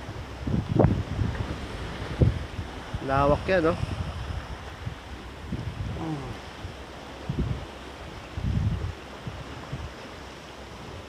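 Sea waves crash against rocks on a windy coast along the Kaybiang Tunnel to Batangas route, booming in repeated surges under steady wind buffeting the microphone while people talk over it.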